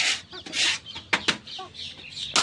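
Chickens and roosters cluck in a poultry cage, short close squawks and clucks coming in quick irregular bursts.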